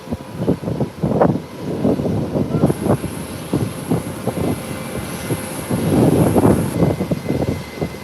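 A JetBlue airliner from Boston rolls along an airport taxiway, its engines giving a steady, moderately loud rumble.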